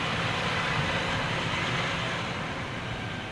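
A Thomas Cook Airbus A330 jet on approach to land gives a steady, distant broadband roar that fades slightly toward the end, with no voices.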